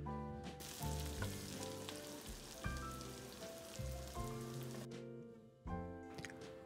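Chopped garlic and green chilies sizzle in a small pan of hot tempering oil for dal over a low flame, a steady crackling fry heard under sustained background music.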